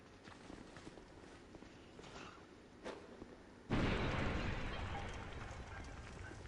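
In the video game Dark Souls 2, jars of oil ignite from a fire bomb and burst into a sudden loud whoosh of flame that lingers as a roaring burn after some earlier footsteps and thuds.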